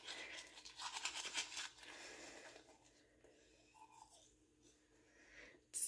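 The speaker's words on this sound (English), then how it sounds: "Keep brushing." Teeth brushing with Crest color-changing toothpaste, a close scrubbing bristle rasp that is loudest at the start and fades to quieter, sparser strokes, with no talking.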